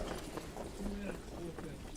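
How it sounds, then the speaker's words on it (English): Harness racing horses trot toward the finish wire at a county track, a steady clip-clop of hooves that blends into the crowd noise while an announcer calls the race over it. "Coming to the wire, Rose Run Vincent. In between horses, up front, Stone."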